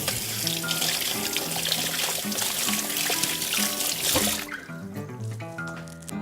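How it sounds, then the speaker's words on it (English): Water runs steadily from a kitchen sink tap as hands are rinsed, a continuous bright hiss that cuts off sharply partway through, leaving quieter kitchen clatter. "let me rinse my hands."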